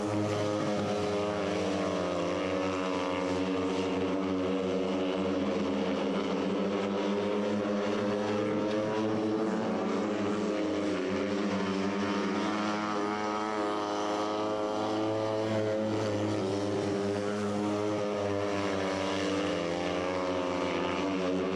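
250cc speedway motorcycles racing on a Danish dirt track at a club Whitsun meeting, engines droning loud and continuous with rising and falling pitch as the bikes sweep past, no talk.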